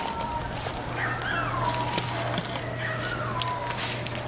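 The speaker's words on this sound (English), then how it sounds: "I don't know why all the cats and dogs are going berserk" Several dogs whimper and yip in high, sliding whines over a steady low hum and outdoor background noise, in repeated bursts at middling distance.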